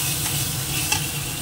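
Ginger paste frying in a pan while being stirred, a brief, close, steady sizzle with soft scraping and a small clink partway through.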